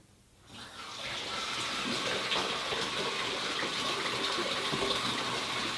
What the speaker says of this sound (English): Go over to the bathtub. Twist the hot water knob 48 degrees to the left.